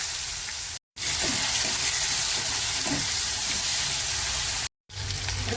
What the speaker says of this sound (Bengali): মাছ ভাজার তেলের মধ্যে জিরে ফোড়ন দিয়ে দিলাম। এবার পেঁয়াজ দিয়ে দিলাম